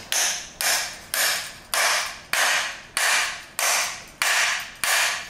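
A conventional half-inch Ingersoll Rand impact wrench is hammered onto a crankshaft end, giving ten evenly spaced loud, sharp rattling bursts, each fading briefly before the next, close up with no talk.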